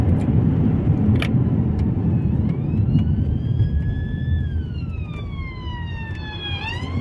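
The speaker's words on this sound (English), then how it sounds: "probably putting siren on just to get out of this traffic" A police car siren wails in heavy traffic at a roundabout in Luton, UK, rising and sweeping over a constant low rumble of idling and moving vehicles, clear but somewhat distant.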